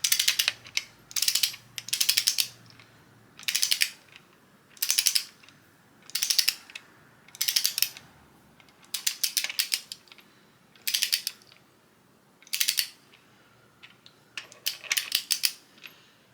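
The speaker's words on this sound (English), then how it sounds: "So now I will torque it." A torque wrench ratchets in repeated short clicking bursts, about ten strokes spaced roughly a second apart, while tightening bolts on a turbo Mazda Miata engine build. The clicks are close, crisp and alone, with no talking.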